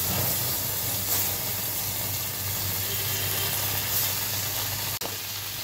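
Baila river fish fry in hot oil, a loud, continuous close sizzle and hiss with crackling spatter throughout and a brief tap near the end.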